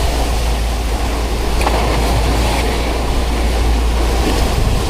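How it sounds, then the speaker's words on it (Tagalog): Pacific Ocean waves wash and rumble in a constant loud roar, with heavy wind buffeting across the microphone throughout. "Alon!"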